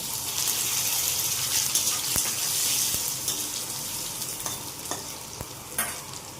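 Potatoes fry in hot oil with five-spice seeds and chillies, a steady loud sizzle broken by the sharp clicks and scrapes of a spatula stirring in the pan.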